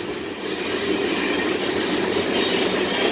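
A passing train rumbles with a steady, loud rolling noise and a high, thin wheel squeal running over it, growing slightly stronger toward the end, with no voices.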